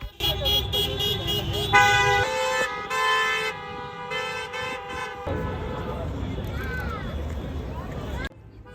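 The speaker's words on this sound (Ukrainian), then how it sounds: "аби водії тиснули на клаксони і відтак створювали шумові сигнали для привернення більшої уваги до акції" Car horns honk repeatedly at a street protest, sustained layered toots from several vehicles close by over traffic and crowd noise, ending abruptly.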